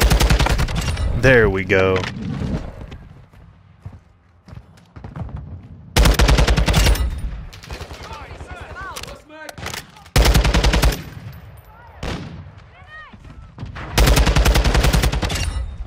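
Loud bursts of automatic gunfire in Call of Duty Modern Warfare II on the Alboran Hatchery map, with several rapid sustained volleys separated by quieter gaps, and a player speaking briefly between them.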